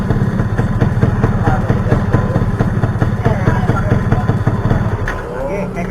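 A Yamaha F1ZR two-stroke motorcycle engine runs loud and close, with a steady throbbing idle and a brief blip of the throttle, while a person talks over it.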